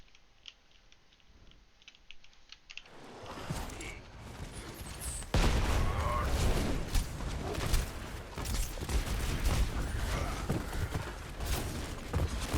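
Gunfire in the Overwatch video game: a quiet stretch gives way to dense, rapid crackling shots and clattering effects that grow louder and continue busily throughout.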